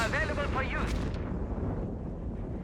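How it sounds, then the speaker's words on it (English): A Stuka rocket artillery volley in Company of Heroes 3 gives off a dense, continuous rumble of booming impacts, with a commentator talking over its opening. "Another Stuckasser volley here."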